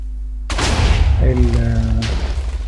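A deep booming cannon blast in Minecraft rolls out suddenly and rumbles on, followed by a ringing tonal hum, loud and close.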